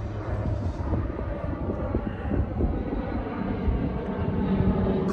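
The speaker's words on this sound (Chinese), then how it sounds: "空中有飞机飞过" A fixed-wing airplane passes overhead above a seaside park in Vancouver, its low engine roar steady and broad, swelling slightly toward the end, with no talk over it.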